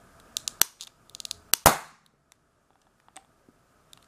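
A homemade internal combustion pistol fires indoors in a living room: a few light clicks and ticks build to a sharp, loud bang with a brief ringing tail, followed by faint scattered clatter.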